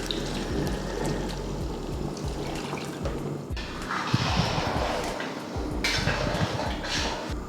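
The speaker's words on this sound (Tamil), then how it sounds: "இப்போ நம்ம தண்ணி ஊற்றியாச்சு" Mutton stock water poured into a pot of rice for biryani, a steady splashing pour with clinks of metal pots and utensils, close and continuous with a brief louder surge midway.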